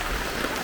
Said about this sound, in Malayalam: മഴ പെയ്തു.